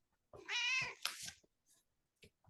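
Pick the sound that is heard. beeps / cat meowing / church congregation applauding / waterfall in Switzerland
cat meowing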